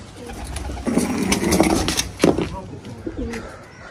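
Pigeons coo softly in a rooftop loft, mixed with fluttering and ambient noise, close by under some background movement.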